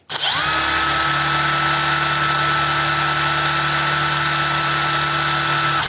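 A SHIDOKU SHG1 cordless impact wrench runs at maximum speed in the loosening direction, a loud, steady high-pitched motor whine with a constant hum underneath, holding unchanged for several seconds with no talk.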